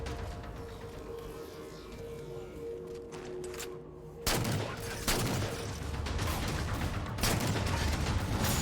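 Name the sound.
weapon gunfire in Halo 4 video game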